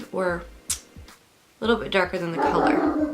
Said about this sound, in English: Excuse my dog, I don't know what he's barking at.